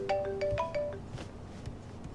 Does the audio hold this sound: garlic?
no